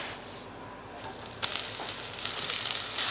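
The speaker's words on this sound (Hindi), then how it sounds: "ऑयल हमारा गर्म हो चुका है, अब इसमें हम डाल देंगे प्याज" Onions dropped into half a cup of hot oil for a tandoori chicken biryani, giving a steady broadband sizzle and hiss that swells after a brief lull, close and fairly loud, with no talk over it.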